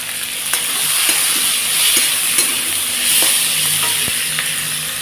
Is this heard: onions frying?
yes